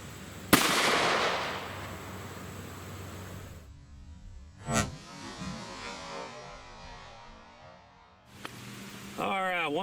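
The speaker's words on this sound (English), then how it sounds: "Let's just go ahead and put some of these bullets in the gel." A PSA Rock 5.7 handgun fires 5.7x28mm Fiocchi 35-grain frangible rounds into clear ballistics gel. There is a sharp, loud first shot and a second report mid-clip over a steady hum, with brief talk at the end.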